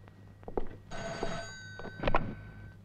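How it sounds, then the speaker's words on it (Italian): A telephone ringing indoors in an Italian comedy scene, a bell-like ring sounding in a couple of bursts at moderate distance amid faint room noise. "Vado io a rispondere al telefono"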